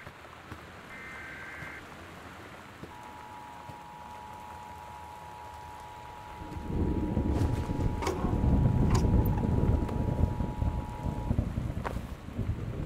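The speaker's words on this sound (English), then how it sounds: "The Northwest Weather Service reports high winds and torrential rain conditions affecting the following counties" Heavy rain and high winds in the video game Gone Home rise to a steady roar midway, with a thin, sustained electronic alert tone above and a few sharp crackles.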